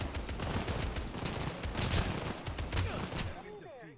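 Dense bursts of gunfire crackle through a Final Fantasy VII: The First Soldier battle royale match, steady and loud across the moment, with a voice talking briefly underneath and a chocobo nearby.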